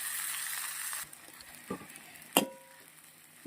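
Sabudana and potato khichdi in a pan: a soft frying sizzle fades after a second, then a few quiet scrapes and clinks from the spoon during stirring, with a sharper knock near the end.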